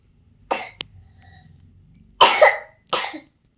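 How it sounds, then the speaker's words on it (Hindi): A sister coughs several times, sharp bursts close by with a short quiet stretch between them, against faint background murmur. "मेरी बहन फिर से खांस पड़ी।"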